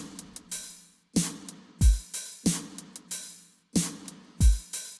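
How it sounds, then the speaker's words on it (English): Drum beat playing alone: sharp, punchy claps and deep booming kicks in a sparse, repeating hip-hop pattern with short gaps, close and dry. "The drums, once again, on their own, sound like this."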